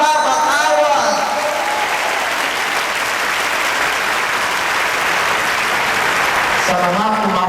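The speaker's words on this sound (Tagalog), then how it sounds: "Sa mga pumapalakpak" A large audience claps loudly and steadily at a Catholic community's 25th anniversary gathering in a forum hall, a dense continuous wash of applause with a voice briefly heard at the start and end.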